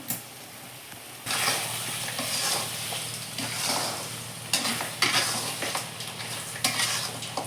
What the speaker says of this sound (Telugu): ఒక నిమిషము ఇలానే వేగిని